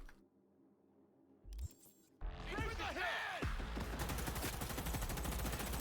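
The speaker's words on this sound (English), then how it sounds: "Light machine gun. M2067 defender. Sure, let's try it." M2067 Defender light machine gun in Cyberpunk 2077 roaring into sustained automatic fire after a quiet opening and a brief clatter, the loud continuous burst running to the end with a voice talking over it.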